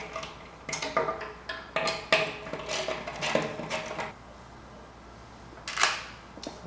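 Ratcheting 13mm socket wrench loosening the four bolts of an antenna mounting bracket on microwave radio equipment: a series of sharp metallic clicks and ratchet bursts in irregular clusters, close up, then a pause and one last click.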